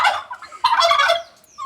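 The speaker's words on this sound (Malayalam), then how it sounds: "അതാണ് ടർക്കി കോഴി" A turkey gobbles twice at close range, two quick rattling bursts separated by a short pause, with nothing else audible.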